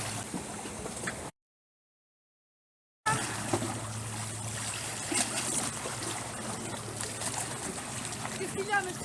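Water trickles and splashes beside a path on a morning walk, a continuous gentle flow heard up close, with voices talking over it and a brief dropout partway through.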